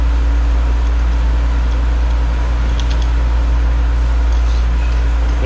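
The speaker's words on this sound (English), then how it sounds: "I'm doing this during the day, so I got the parts washer going" A parts washer runs steadily in a workshop, giving a loud, constant low hum and drone with a faint mechanical whir on top, continuous throughout with no voices.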